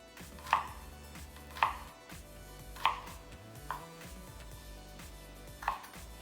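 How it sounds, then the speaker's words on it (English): A knife slices halved Brussels sprouts on a cutting board in a kitchen, five distinct sharp chops spaced about a second apart, close and clear over quiet background hum. "go opposite directions and just cut little slices"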